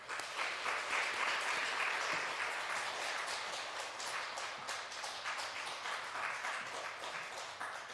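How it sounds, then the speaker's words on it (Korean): A church congregation at a Wednesday worship service claps to welcome a preacher to the front, a full, continuous round of applause that swells early and stays strong before easing slightly toward the end. "우리 나오실 때 축복하는 박수로 환영하도록 하겠습니다."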